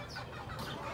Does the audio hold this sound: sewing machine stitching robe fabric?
no